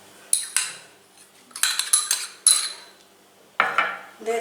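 Chhana, khoya kheer and sugar are stirred together in a wok for coco deep sweets, giving several bright scraping and clinking strikes of a metal spoon against the pan, close and loud, in irregular bursts with pauses between.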